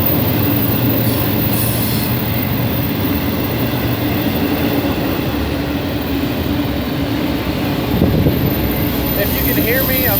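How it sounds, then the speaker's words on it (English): A train rumbles past at close range, loud and steady for the whole stretch, with rail clatter and a faint wheel squeal near the end, heard from a trout-fishing spot beside the tracks. "It's a train coming."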